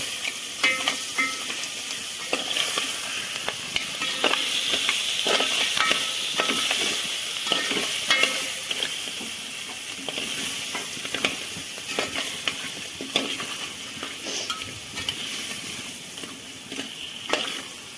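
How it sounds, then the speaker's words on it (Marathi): A crab curry mixture sizzles hard in a garlic tempering, with a loud continuous frying hiss and crackle, occasional stirring clatter and spatters, and no voices. "सगळं मागाशी मिक्स केलं होतं ते डायरेक्ट टाकलं आहे फोडणीला लसणीची फोडणी दिली आहे फक्त"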